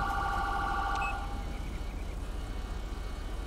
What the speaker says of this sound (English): They already heard the siren.